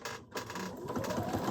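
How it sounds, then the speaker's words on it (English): A sewing machine stitches a French seam on a silk scarf, its quiet, fast mechanical chatter running in short bursts with a brief pause near the start. "Sewing a French seam."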